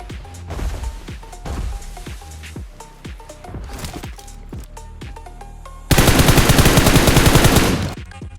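Gunfire in the mobile game PUBG Mobile (BGMI): sharp repeated shots crack in an uneven string, then a loud continuous rapid burst of automatic fire lasts about two seconds before cutting off.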